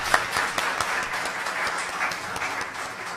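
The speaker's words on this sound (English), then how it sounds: "Shall we give him a round of applause?" Audience applause at a research conference, a steady, moderately loud patter of many hands clapping throughout, with no one speaking over it.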